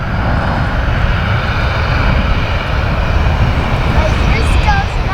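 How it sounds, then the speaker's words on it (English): A Boeing 747 airliner takes off and climbs, its engines producing a loud, sustained roar that holds steady throughout at fairly close range. "There goes the 747, kids. That is one huge airplane."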